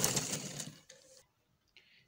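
A sewing machine stitches the front and back panels of trousers together in a brief whirring run that stops abruptly, followed by a faint click and near silence.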